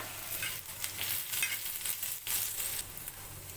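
Coriander seeds, rice, black pepper, garlic and ginger dry roast in a pan, a faint rustling hiss with soft scraping as they are moved about, quiet and steady, with no voices.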